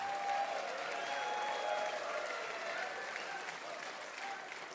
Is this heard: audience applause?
yes